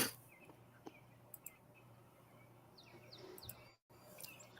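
Quiet outdoor morning with scattered high bird chirps and short song phrases at a distance, a few sharp clicks, and a brief dropout near the end.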